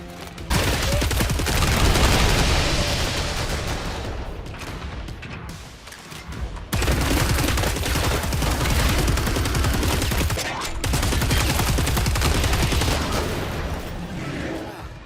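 Automated turret in the Killing Floor 3 video game firing a dense, continuous barrage of loud gunfire that pauses briefly twice before resuming.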